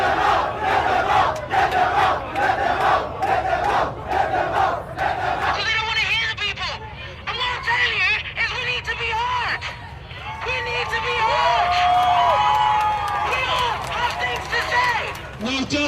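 An angry crowd shouts outside a council building near Grenfell Tower, chanting and yelling in loud, rhythmic bursts. Voices overlap in a dense, close roar that swells toward the end, with scattered individual cries over the babble.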